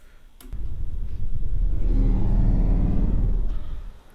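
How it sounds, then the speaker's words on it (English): A heavily slowed-down, reverberant Star Wars Force sound effect: a deep swelling rumble that rises, holds and fades, heavy and close, with no voices. "So this is a TFA Force sound."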